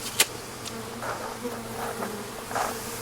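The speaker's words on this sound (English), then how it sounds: "the bees were getting in through the gap" Bees getting in through a gap in masonry buzz close by, a faint steady drone with individual insects swelling louder as they pass near.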